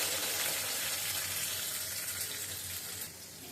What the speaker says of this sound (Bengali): এবার চুলা আঁচটা বাড়িয়ে দিয়ে সিম ভাজিটা দিয়ে দিচ্ছি।